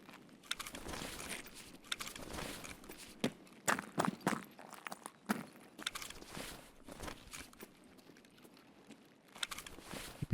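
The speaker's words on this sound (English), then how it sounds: "I really needed to listen to the footsteps" Footsteps in a hardcore Iron Man video game play as quiet, irregular steps and scuffs, some louder thuds mixed in, continuing over a low background for about ten seconds.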